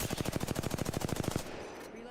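Rapid automatic gunfire from Apex Legends gameplay, a steady burst of about fifteen evenly spaced loud shots lasting over a second, then cutting off into a quieter fading tail.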